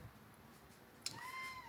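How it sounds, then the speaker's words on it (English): A mother cat in heat gives a short, faint meow near the end, a thin rising call heard over a quiet background with no talking. "Mama cat's in heat. Poor babies are sleeping inside. So she might meow a lot."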